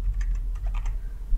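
Quick, close keystrokes on a computer keyboard as a name is typed into 3D modeling software, a short run of light clicks over a low steady hum.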